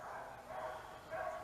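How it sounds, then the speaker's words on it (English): A dog in a kennel some distance away at a camping spot gives a couple of faint, muffled barks and yips. The sounds are quiet and distant against a soft background. "there's a dog kennel over there. You probably can hear him"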